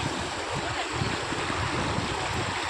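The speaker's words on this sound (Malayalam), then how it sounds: "വെള്ളത്തിൻ്റെ ഒഴുക്കുണ്ട" Floodwater in a stream overflowing its banks beside a house flows in a steady, full rushing wash, close and continuous with no voices.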